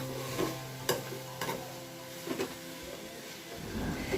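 Prawns frying in a pan for a Kerala-style prawn ghee roast give a steady, moderately quiet sizzle, broken by a few sharp stirring scrapes and clinks, with no talking.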